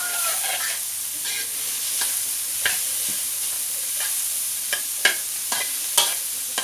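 Pork stir-fried in a pan with fiddlehead fern shoots gives a steady, close sizzle punctuated by crisp clacks of the spatula, louder toward the end.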